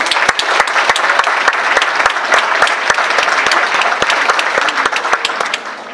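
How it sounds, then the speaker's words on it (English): Applause from the audience at a middle school winter orchestra concert: loud, sustained clapping with many sharp individual claps standing out, steady throughout and dropping off briefly near the end. "Round of applause for them."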